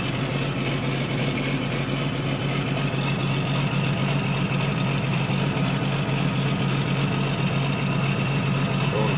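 Detroit Diesel Series 60 in a 1990 Peterbilt truck idling after a cold start, a loud, steady, even diesel rumble with constant vibration from start to finish and no talking.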